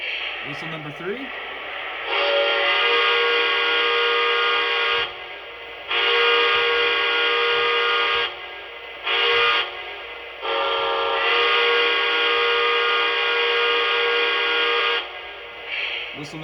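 Whistle blasts from a Lionel Strasberg Number 31 model train locomotive: several long chordal toots of varying length separated by short gaps, loud and near, following a faint brief sound at the start.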